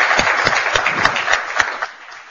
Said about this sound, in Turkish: Ben sazlarıma bir alkış alabilir miyim lütfen?